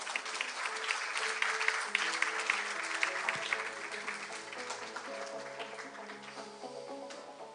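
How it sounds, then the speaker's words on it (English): Conference audience at a world congress in Seoul applauding as a speaker comes on stage, a broad wash of clapping that gradually fades while a soft musical tone sounds beneath it. "please give him a big round of applause and welcome him on the stage"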